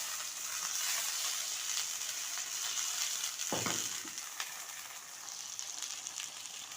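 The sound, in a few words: sausage frying and being turned in a pan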